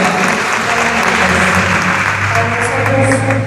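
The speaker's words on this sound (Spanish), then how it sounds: "Damos también un aplauso." Dense, steady applause from an audience at a Catholic faith talk in Santa María Goretti, filling the whole stretch loudly with no pause.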